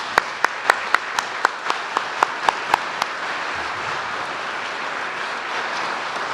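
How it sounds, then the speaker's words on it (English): Graduation ceremony crowd gives a round of applause: a string of sharp, evenly spaced loud claps opens the moment, then dissolves into a steady wash of audience clapping that carries on to the end. "Let's give them a round of applause."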